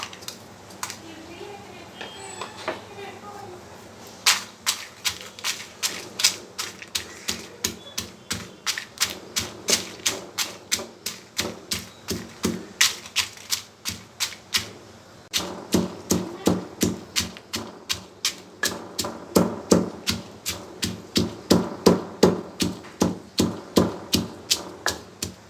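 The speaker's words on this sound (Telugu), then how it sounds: "రోట్లో జీలకర్ర, వెల్లుల్లి, ఫ్రై చేసిన ఎండుమిరపకాయలు వేసి దంచుకోవాలి." Cumin, garlic and fried dry red chillies are pounded in a stone mortar, giving a long run of sharp, rhythmic knocks, close and steady, that speed up and grow denser partway through.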